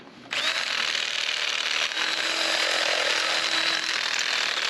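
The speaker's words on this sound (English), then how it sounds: "Let me drill it out a little bit further so we can make it more square." Power drill boring out a hole to mount a spare tire on a 6x10 cargo trailer camper, a loud close whine starting abruptly and running steadily with a brief dip, no talking.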